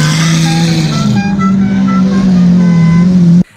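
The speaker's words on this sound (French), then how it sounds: "Le mec a la musique du parrain en guise de klaxon." A car horn plays the Godfather theme as a loud, close melodic run of sustained tones, steady for over three seconds before cutting off abruptly, with no voices over it.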